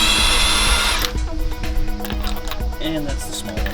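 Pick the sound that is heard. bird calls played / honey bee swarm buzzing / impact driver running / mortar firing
impact driver running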